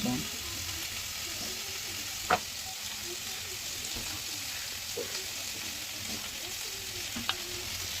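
Steady frying sizzle from a pan of potato and egg curry as spices and water are added, loud and continuous, with a couple of faint clinks.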